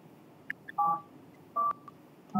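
Phone keypad tones beep in three short separate presses, each a crisp two-tone note, quiet and close, alone with faint background hiss.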